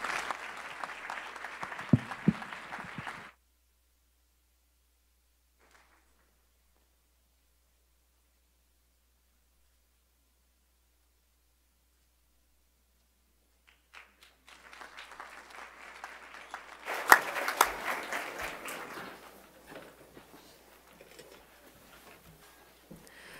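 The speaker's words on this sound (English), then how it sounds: "One more round of applause for Deputy White and Deputy Johnson." An audience applauds at a school board meeting in two spells of clapping, a brief round at the start and a longer, louder one after a stretch of near silence, filling the room.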